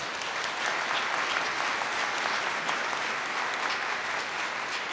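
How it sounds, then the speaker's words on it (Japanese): Steady applause from a large audience at a public talk event in Nishinomiya, even and sustained throughout without speech. "ちょっともう一度拍手していただけますか"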